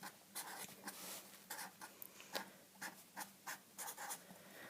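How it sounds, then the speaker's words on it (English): Pen writing a list of numbers by hand on paper, quick faint scratchy strokes in short irregular bursts, close and quiet with no talking. "I'm going to write them down quickly as a list to get me going."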